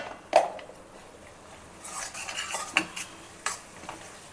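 Turmeric and ginger garlic paste stirred in a pan for egg curry: a few scraping spoon strokes and light clinks over a faint sizzle, close and quiet.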